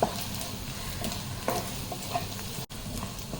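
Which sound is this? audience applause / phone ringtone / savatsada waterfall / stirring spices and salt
stirring spices and salt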